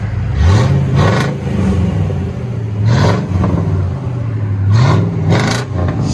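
A straight-piped Chevy Caprice V8 revs three times in a row, each blip rising into a loud, raspy roar before dropping back to a deep, lumpy idle rumble, heard up close outdoors with the exhaust resonating off the ground.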